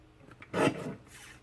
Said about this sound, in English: Let's trim this into separate elements.